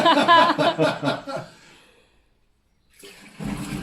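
A short gurgling rush of residual water spluttering out of a pipe, loud at first then fading to near silence before another burst of splashing near the end.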